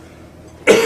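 A single sharp cough bursts out near the end, loud and close, from a man with a small pneumonia and an aching vertebra, after a stretch of quiet room tone.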